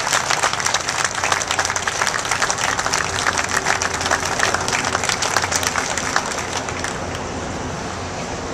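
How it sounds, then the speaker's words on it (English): A crowd at a veterans' tribute event gives a sustained round of applause. The clapping is loud and dense and stays steady for several seconds, then thins slightly toward the end. "Round of applause for them."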